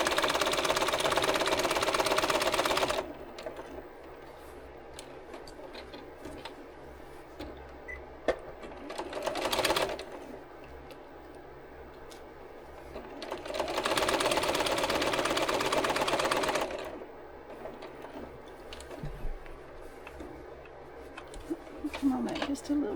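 Sewing machine stitching a quilted jacket sleeve, starting and stopping in three loud close bursts of rapid whirring, with quieter gaps of handling noise and talk between.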